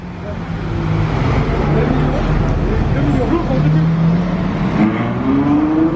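Sports cars at a car event, among them an Audi RS4, a Ford Mustang, a Ferrari 812 and a Mercedes E63, drive past with loud engine drones and rising revs. Someone talks over the cars throughout.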